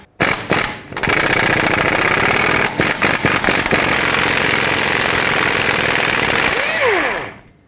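Impact wrench with a 21mm socket hammering at the lower ball joint nut on a 2008-2010 Ford F-250, a few short bursts and then one long loud continuous rattling run close by, winding down at the end.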